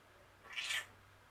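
A house cat gives a single clear meow of medium length, close by, over a quiet indoor background hum.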